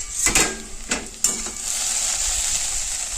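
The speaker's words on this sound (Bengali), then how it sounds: "ব্যাস আর ঢাকা দেবো না এরমভাবে ভাজতে থাকবো বেশ কিছুক্ষণ" Okra and potato frying uncovered in a pan, a steady broadband sizzle with a few brief clatters of utensil against the pan near the start.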